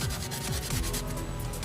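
Sandpaper rubs back and forth against the rusty rear brake lamp of a Vespa Sprint, a close, continuous scratchy rasp with quick repeated strokes and no talk.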